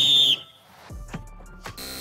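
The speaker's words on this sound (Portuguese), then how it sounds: "Pera aí, vou apitar." A referee's whistle blasts once, loud and steady, during a football finishing challenge, then cuts off, leaving faint background noise and a few light knocks.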